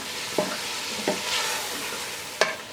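Beef and spices for haleem fry in a pan with a steady sizzle, while a spoon scrapes and stirs in three sharp strokes, close and alone without talk.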